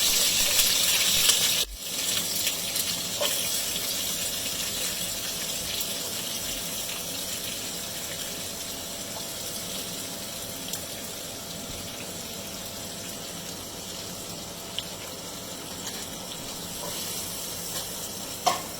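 Onions fry in hot oil for chicken biryani with a loud, dense sizzle that starts with a brief burst, then settles into a steady hiss with occasional stirring clicks.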